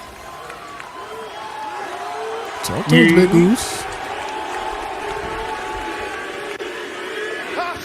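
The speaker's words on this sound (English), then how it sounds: "This sold-out crowd just became unglued." A sold-out wrestling arena crowd roars in a steady, distant wash of noise, swelling into a louder burst of cheering midway, with a commentator speaking over it throughout.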